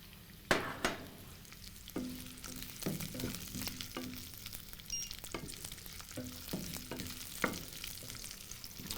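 Flaked onions sizzle steadily in a pan on a high-heat induction cooktop, with repeated sharp knocks and scrapes from stirring spread across several seconds, fairly quiet and close, with no voices.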